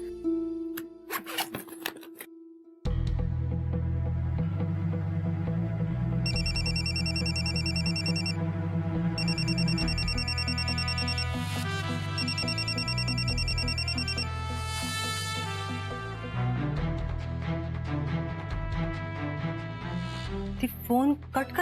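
A telephone rings in a Marathi TV serial scene, its electronic ringtone repeating in short bursts over steady background music, with low voices near the end.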